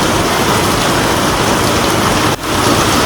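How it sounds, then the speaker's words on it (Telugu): Heavy rain pours down steadily in a village during a downpour, a loud, dense, continuous hiss of water hitting surfaces close by, with no voices. "వర్షం బాగా పడుతుంది బ్రో."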